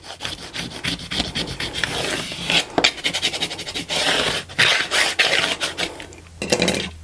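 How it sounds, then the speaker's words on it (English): Vinyl on transfer tape being burnished down onto a metal sheet pan, a close, loud, scratchy rubbing in quick repeated strokes with short pauses between bursts and no voices. "And then we'll just burnish that down really well."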